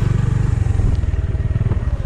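A motorcycle engine chugs loudly and close while climbing a mountain road, its pulsing low rumble straining steadily as if under heavy load.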